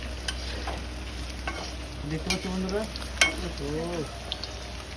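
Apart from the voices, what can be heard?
paneer frying in a pan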